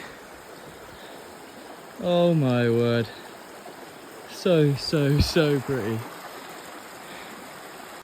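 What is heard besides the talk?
river stream flowing near Mae Yen Waterfall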